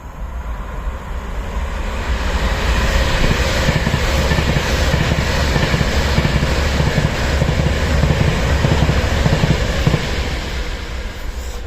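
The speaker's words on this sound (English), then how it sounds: "You know what, there is a train." A train rumbles past near a station, a loud continuous roar that swells and stays heavy for several seconds before easing slightly.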